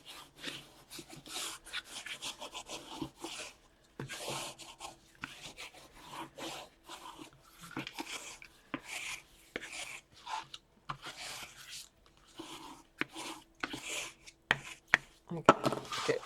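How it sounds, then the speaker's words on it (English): A craft tool burnishes paper for a scrap album, giving soft, close scraping and rubbing strokes in irregular bursts separated by short pauses, fairly quiet throughout. "I'll come over from the other side and burnish as well."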